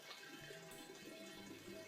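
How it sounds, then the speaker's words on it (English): Bottled water poured into a wine-making container for raspberry rhubarb wine, a steady close splashing and gurgling stream running throughout, with no talk. "So I'm just going to take, again, this bottled water and pour it in here."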